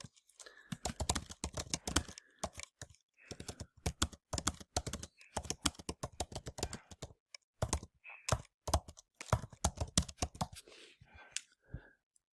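Fast, close typing on a computer keyboard while taking notes, with irregular bursts of crisp key clicks separated by short pauses.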